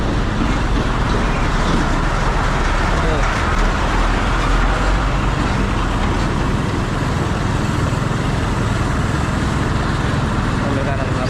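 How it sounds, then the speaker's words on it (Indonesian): Trucks and traffic grinding along a damaged, partly dug-up road at Parung Panjang, a steady loud rumble of engines and rough road noise throughout, with talk heard over it. "Aduh, ada truk lagi."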